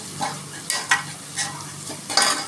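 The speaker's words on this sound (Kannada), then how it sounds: "ಸಣ್ಣಗೆ ಹಚ್ಕೊಂಡ್ಮೇಲೆ ಈ ಥರ ಫ್ರೈ ಮಾಡಿ." Finely chopped bitter gourd frying in a pan, with a few distinct spatula stirs and scrapes over a soft background sizzle, close and alone.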